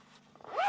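The zipper of a campervan rooftop tent being closed, a single quick rasping pull lasting under a second that rises sharply in loudness at the end, close up.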